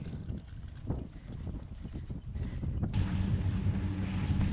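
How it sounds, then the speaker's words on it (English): A headwind buffets a microphone during a marathon training long run, a low, gusty rumble that builds and holds steady toward the end, close and fairly loud. "you got a nice headwind right now"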